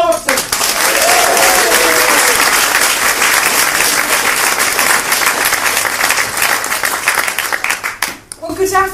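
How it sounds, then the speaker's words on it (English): Loud, sustained applause from a large audience at a creative conversation event, filling most of the stretch with dense clapping before tapering off as a speaker prepares to begin. "put your hands together for Juliet Robertson."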